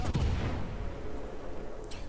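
Warship gun salvo in a naval video game: a sharp, heavy boom at the very start, followed by a long low rumbling decay that trails off over about two seconds.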